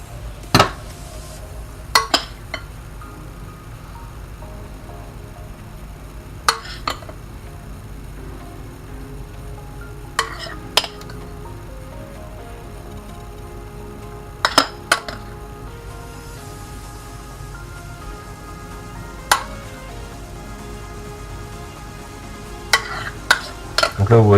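Chocolate mousse mixture being folded in a bowl, a soft continuous stirring texture broken by scattered sharp clinks of a utensil against the bowl's side, close and fairly quiet.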